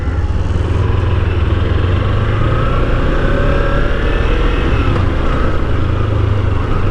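A Kawasaki Ninja 300 motorcycle on the road gives a loud, steady engine drone mixed with heavy wind rush from the rider's position, holding constant for the whole stretch with no voices.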